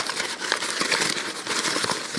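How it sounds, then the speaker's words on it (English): Paper being crumpled into a ball to age it gives a dense, continuous crinkling and crackling, close and fairly quiet, with small irregular bursts as the sheet folds and compresses. "I'm going to be just crumpling it up into a ball"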